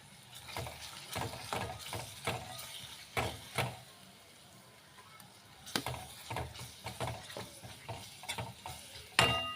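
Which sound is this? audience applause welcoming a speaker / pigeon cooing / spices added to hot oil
spices added to hot oil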